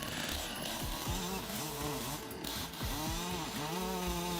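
A chainsaw cuts through a tree in snowy forest terrain, its engine droning steadily and rising and falling in pitch as the load changes, loud and continuous with no talking.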